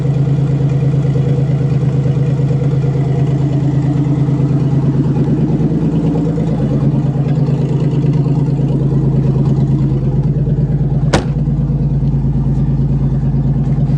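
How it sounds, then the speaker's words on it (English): A loud Buick Century engine rumbles steadily at idle through a throaty exhaust, a deep continuous drone with a brief sharp click near the end. "Don't you love the sound of redneck exhaust in the afternoon?"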